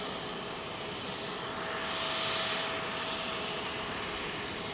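A Boeing 777 takes off from Heathrow runway 27L bound for Bengaluru, a steady distant jet roar that swells to a peak midway and then eases slightly.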